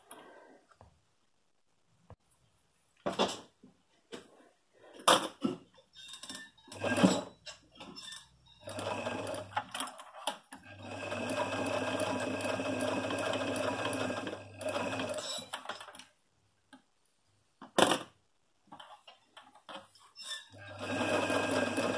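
A sewing machine stitches a men's shirt seam at a 5/8 inch allowance in short stop-start bursts, then a long steady whirring run and more bursts, close by, with small clinks of handling and no talk.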